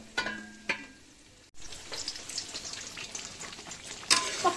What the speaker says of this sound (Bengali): আলাদা একটি পাতিলে গরম তেলের ভিতর আমি এলাচি, দারুচিনি ও পেঁয়াজটি ভেজে নিব।